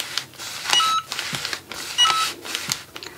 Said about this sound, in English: Once it's done, it does beep.